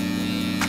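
Electric hair clippers cut a long beard, giving a close, steady mains-pitched buzz that holds without a break through one very short moment.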